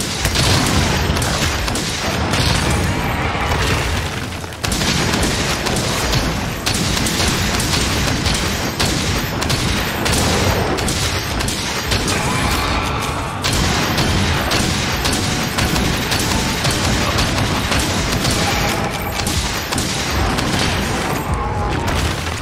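Heavy bowgun firing spread ammo in Monster Hunter Rise, a dense, loud barrage of booming blasts and mechanical clatter with almost no pauses.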